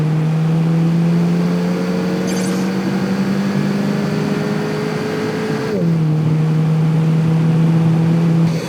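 A Volkswagen Golf GTI on a hot lap of a test track, its engine holding a loud, steady drone that climbs gradually in pitch under acceleration, then drops sharply at a gear change before pulling again, heard from inside the car.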